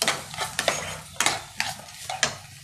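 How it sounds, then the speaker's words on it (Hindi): A spoon scrapes and stirs a jaggery mixture frying in a pan, giving sharp, regular clinks and scrapes about every half second over a soft sizzle, close and clear with no talk. "अब ये अच्छे से फ्राई करना है. जो गुड़ है वो अच्छे से मिक्स और थोड़ा मेल्ट होना चाहिए अच्छे से."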